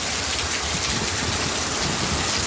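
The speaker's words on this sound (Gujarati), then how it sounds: "આ તો જો ફ્રેન્ડ્સ કેટલું પાણી જાય છે તો ખરા એકદમ વરસાદ આવ્યો" Heavy rain pours down in a dense, steady hiss, loud and continuous with no pauses.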